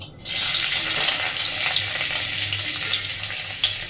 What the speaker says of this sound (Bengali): তেল খুব সুন্দর করে গরম হয়ে গেছে এবার আমি তেলের মধ্যে সবার আগে দিচ্ছি রসুন কুচি